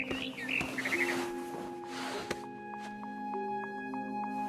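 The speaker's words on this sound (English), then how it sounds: "Then I heard chirping outside my window. It was a barn swallow going back to her nest." A barn swallow in the video game What Remains of Edith Finch chirping, quick high twittering bursts near the start and a few short calls later, set over a soft sustained musical tone.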